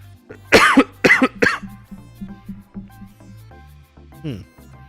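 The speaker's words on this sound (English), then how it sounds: "The coughs are kind of here and there, so I appreciate your patience for that." A person at a VTuber convention coughs three times in quick succession, loud and close, followed by softer throat noises over a low background hum.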